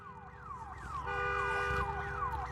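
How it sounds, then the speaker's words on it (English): A car alarm in the video game Days Gone wails continuously in a repeating, sweeping tone, steady and fairly loud over low game ambience. "I'm actually leaving that car alarm on"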